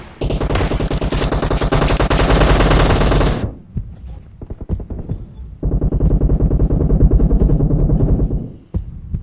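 Loud, close bursts of automatic gunfire in the mobile battle royale game PUBG Mobile, one long sustained burst, a pause with scattered shots, then another long burst.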